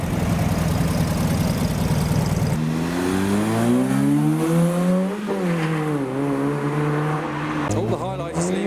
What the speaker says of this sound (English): That is an Austin Allegro estate on a Volkswagen Beetle chassis turning up.